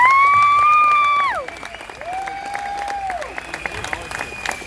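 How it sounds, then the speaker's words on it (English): A crowd at a political rally applauds and cheers, loud at first under sustained electronic tones, then settling into steadier, somewhat quieter clapping with scattered shouts. "let's give her another round of applause."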